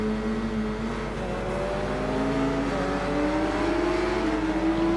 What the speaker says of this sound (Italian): sentite il rumore cupo di sta moto